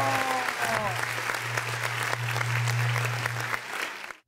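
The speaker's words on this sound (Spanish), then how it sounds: "¡Venga el aplauso!" Crowd applause at an outdoor live show in the Zócalo of Puebla, sustained clapping with a low steady hum underneath and brief cheering at the start, ending abruptly after about four seconds.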